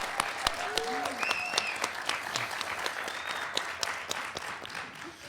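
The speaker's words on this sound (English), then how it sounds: "Let's give a big round of applause for our contestants" Middle school quiz show contestants, hosts and sponsors receive moderate applause from a theater audience, individual claps standing out within the crowd, with brief vocal calls over it.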